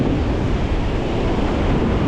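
Ocean surf at sunset, a loud, steady wash of breaking waves with wind rush, continuous and close, no voices.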